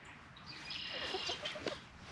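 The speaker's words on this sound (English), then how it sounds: "Hey, chickens." Laying hens on a homestead cluck softly in a few short, quiet calls, close by and otherwise undisturbed.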